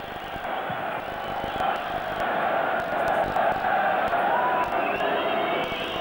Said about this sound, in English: every time the Belgians get it now, they're being whistled at by their own fans